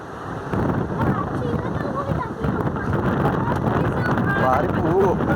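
Loud, continuous wind gusts roar across the microphone at the top of Kovalam lighthouse, with a person talking over the rush throughout.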